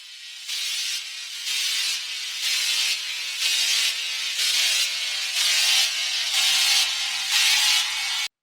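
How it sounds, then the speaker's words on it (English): A white noise riser sample from a Chill Trap and Future R&B pack, at 160 BPM: a bright hiss pulsing in steady repeated swells that grows slightly louder over about eight seconds, then cuts off abruptly. "so what I wanted to do was add a white noise ariser."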